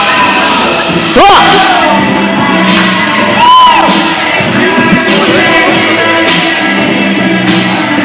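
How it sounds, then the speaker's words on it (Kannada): At a wedding sangeeth, an audience whoops, shouts and cheers in loud bursts, with sharp peaks of excitement over a busy, crowded background of voices. "ಚಪ್ಪಾಳೆ ಬರಲಿ"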